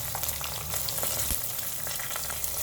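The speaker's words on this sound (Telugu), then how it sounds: "ఇది బాగా ఫ్రై చేసుకోవాలమ్మా." Chillies, curry leaves, asafoetida and turmeric fry in hot oil with a steady, dense sizzle and crackle, close and loud throughout, with occasional stirring.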